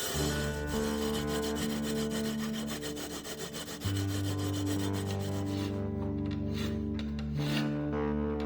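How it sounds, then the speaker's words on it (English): Rhythmic back-and-forth rubbing of a sanding sponge on the wood of a guitar build, steady strokes under a sustained droning background tone, with no one speaking. "I used these sanding sponge"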